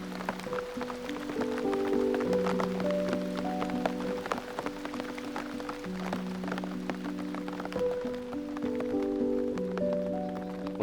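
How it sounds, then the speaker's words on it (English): Light drizzle falling at a 100-acre gravel pit during a carp fishing session. It makes a steady, soft patter of drops throughout, with sustained musical tones layered over it. "It's just died off to a drizzle now"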